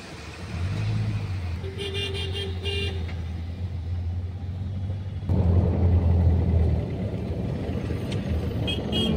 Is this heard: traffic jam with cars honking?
yes